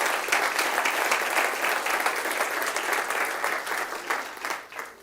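A church congregation claps loudly and steadily together, a dense sustained wash of applause that tapers off slightly near the end.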